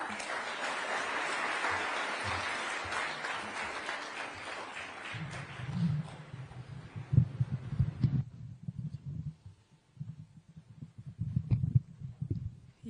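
Audience applause at the Mazingira Awards ceremony, a dense wash of clapping that fades after a few seconds into low rumbling and scattered thumps.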